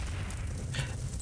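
A grenade detonates in TimeSplitters 2, a low, rumbling boom that stays steady and loud through the whole short burst, with no voices.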